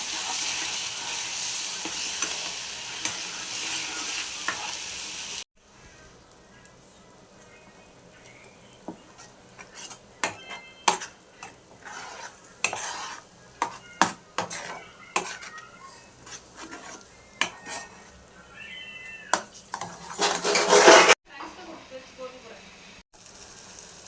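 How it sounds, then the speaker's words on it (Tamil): Onion paste being stirred in a pan over low heat for onion thokku, with a spoon scraping and clinking against the vessel in intermittent bursts over a faint sizzle, a louder stretch at the start. "ஒரு 1/2 மணி நேரம் சிம்மில் வச்சு நல்லா கிளறிக்கிட்டே இருக்கணுங்க."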